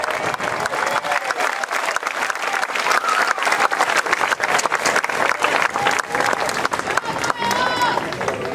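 Sustained audience applause at an 8th grade graduation ceremony, a dense steady wash of many hands clapping, with some cheering mixed in, holding loud throughout.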